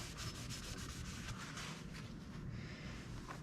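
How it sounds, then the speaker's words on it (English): A rag rubs and wipes across a rear shock part for an XR600 motorcycle, a close, steady scrubbing friction sound with no talk. "Wipe this off."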